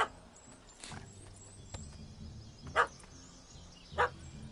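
A dog in The Witcher 3: Hearts of Stone gives two short, sharp barks, fairly faint and somewhat distant, over a quiet ambient background.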